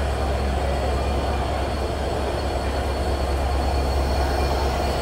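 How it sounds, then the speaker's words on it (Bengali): Broad gauge diesel-electric locomotive 6333, a BP32 built by American Progressive, gives off an unbroken rolling rail rumble with a faint wheel squeal, steady and moderately loud, with no voices. "আমাদের আজকের ট্রেনের locomotive 6333 BP32 broad gauge diesel electric locomotive"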